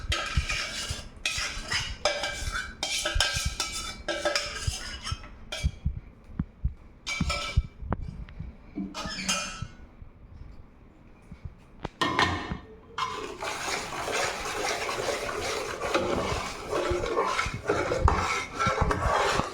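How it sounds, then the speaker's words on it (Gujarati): Hot sugar syrup is poured into a pan of semolina and gram flour sweet with the gas turned off, giving a loud hiss and bubbling surge, preceded by close scraping and clinking of a spoon against the pan. "ચાસણી કરી દઈએ એડ આપણે આમાં।"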